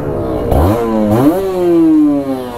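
A Kawasaki Ninja RR two-stroke motorcycle engine, running after being started, blips the throttle twice in quick rising revs, then settles into a loud, steady buzzing idle close to the microphone.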